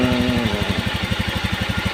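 A Honda Beat FI scooter engine with a faulty throttle position sensor idles roughly nearby, a loud, uneven low chugging pulse that stumbles and surges irregularly, heard alone.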